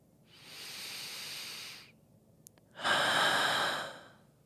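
Two long, slow breaths, a broad hissing inhale followed after a short pause by a louder, fuller exhale, close and alone with no talking.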